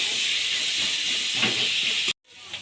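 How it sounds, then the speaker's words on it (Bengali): Chopped onions fry in hot oil for a cauliflower curry cooked with fat, giving a steady, close, bright sizzling hiss that cuts off abruptly near the end. "এবার পেঁয়াজগুলোকে ভালো করে ভেজে নিতে হবে।"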